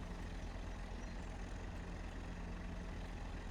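Low, steady engine drone of a tractor in Farming Simulator 25, idling quietly and evenly for a few seconds with no talking.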